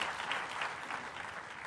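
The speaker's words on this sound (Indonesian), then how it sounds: "Beri tepuk tangan yang meriah buat Tuhan" Congregation in a church service claps briefly, a soft, somewhat distant patter of applause in a reverberant hall.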